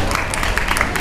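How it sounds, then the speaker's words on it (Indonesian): An assembled group at a Friday morning roll-call assembly claps briefly, a close, loud burst of overlapping hand claps lasting about a second. "Oke, beri tepuk tangan."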